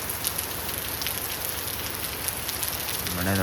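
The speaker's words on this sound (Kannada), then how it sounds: "ಮಳೆ ಮಾತ್ರ ಸಿಕ್ಕಾಪಟ್ಟೆ ಹೊಡಿತಾ ಇದೆ ಗೈಸ್." Heavy rain pours down in Udupi, a dense, steady hiss of drops pounding surfaces close by, continuous and unbroken, with a faint tonal hum creeping in at the very end.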